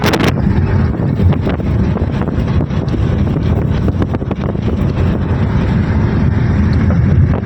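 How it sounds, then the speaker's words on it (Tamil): Loud, continuous strong wind roars and buffets close to the microphone inside a car, rumbling without a break. "அந்த காருக்குள்ளே இவ்வளோ காற்றடிக்குது."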